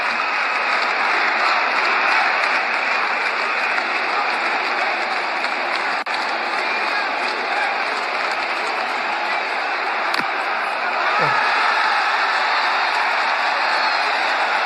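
A packed stadium crowd at the India vs England ICC T20 World Cup semi-final keeps up a dense, unbroken roar of cheering and applause, loud and steady from start to finish with no pause.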